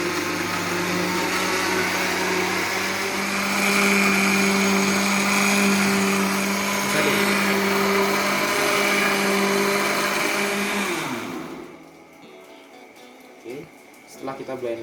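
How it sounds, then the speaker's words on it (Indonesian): A kitchen blender whirs steadily for about eleven seconds, blending ingredients with half a liter of water, then cuts off and leaves quiet room sound with a few faint knocks. "Dan kita blender."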